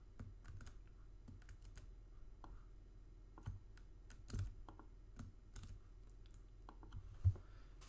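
Quiet, close typing on a computer keyboard: irregular soft key taps and a few sharper clicks in a calm room, with no one speaking.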